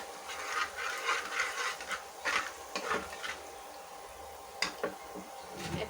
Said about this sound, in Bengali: 1/2 চামচ পরিমাণ কালো জিরা দিয়ে একটু ভেজে নেব